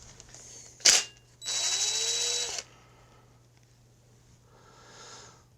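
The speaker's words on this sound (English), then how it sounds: "Handy dandy DeWalt impact." DeWalt impact driver spinning off a 12 mm shouldered nut near the injector pump of a John Deere 755 tractor: a short sharp burst, then a steady buzzing run of about a second, close and loud, with quiet after.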